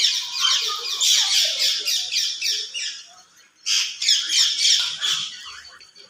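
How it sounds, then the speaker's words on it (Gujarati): A parrot squawks loudly at a cat in harsh, rapid bursts, breaks off briefly, then resumes another run of shrill calls close by. "અને આ પોપટડા ભાઈ જો બિલાડીને દેખીને તે કાંત કરવા માંડ્યા છે"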